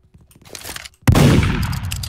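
Gunfire in the Roblox game Murder Mystery 2: after a quiet second of faint game noise, a sudden loud blast erupts and rolls into a dense, sustained burst that stays loud to the end.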